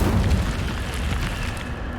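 A burst of fire erupts from the Incendio spell in Hogwarts Legacy, a loud whooshing boom that opens strongly and then settles into a sustained crackling rush.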